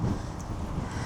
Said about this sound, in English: It's windy up here, isn't it? It's windy.